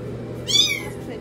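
A small foster kitten lets out a single short, high-pitched meow, close and clear over a low steady background hum.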